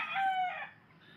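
A rooster, a gamecock, crows once, a single close, bright call that trails off quickly into quiet.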